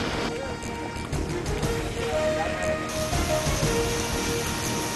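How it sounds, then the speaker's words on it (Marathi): Heavy cloudburst-like downpour in Pavas, Ratnagiri, a dense steady roar of rain with water sounds, loud and continuous throughout. "रत्नागिरीतील पावसमध्ये ढगफुटी सदृश्य पाऊस."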